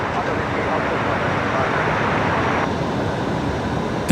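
A Qantas Link Embraer 190 landing at Brisbane Airport gives a steady broad jet rumble heard from a distance, unbroken for a few seconds.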